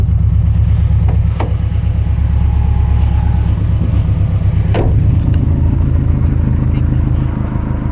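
A loud 2007 Subaru WRX STI holds a steady, heavy engine drone close by, with a couple of sharp crackles or pops over the constant rumble and voices faintly mixed in.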